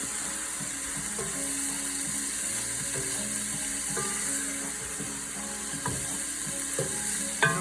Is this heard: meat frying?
yes